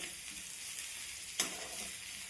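Grated garlic and chopped green chillies fry with cumin in hot oil for a cauliflower-leaf dish, a soft steady sizzle with one sharp stirring clack midway, no voices.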